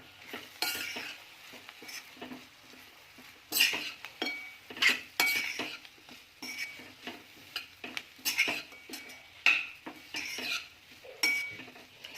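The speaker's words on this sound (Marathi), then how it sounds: "कारलं टाकणार आहोत आपण हे परतून घेणार आहोत" Bitter gourd sautéed in a pan: a spoon scrapes and clinks against the metal in uneven bursts over a faint sizzle, close and moderately quiet, with no one talking.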